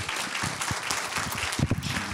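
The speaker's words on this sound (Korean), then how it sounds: "박수로 환영하겠습니다" Audience at a school parents' education session on restorative school life applauds to welcome a guest speaker, steady close clapping from a crowd throughout.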